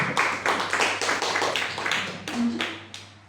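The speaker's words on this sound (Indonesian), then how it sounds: "Tepuk tangan dong untuk anak-anak kita" An audience at a dance performance by deaf children at SLBN 25 Sintang claps in a loose burst of distinct, fairly close hand claps that thins out over a few seconds.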